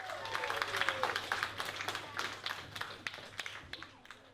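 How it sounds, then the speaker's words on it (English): A small group claps for a few seconds at a science demonstration, a dense patter of hands that gradually thins out, heard faintly at a distance. "give a round of applause to Jacob here."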